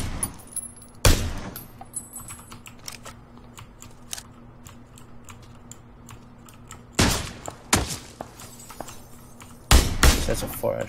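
Distant gunfire in the PUBG battle-royale game, a few sharp isolated cracks spaced several seconds apart against a steady hum, with players talking throughout.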